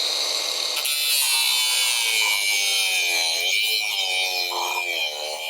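Saw cutting through a wooden deck post, a steady, loud, continuous rasping that runs the whole time without a pause.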